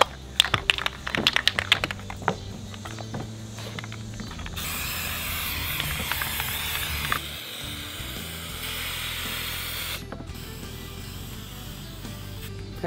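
An aerosol can of galvanizing compound sprays in long, steady hissing bursts onto 3/8 chain after some clattering handling noises, with a brief pause between sprays.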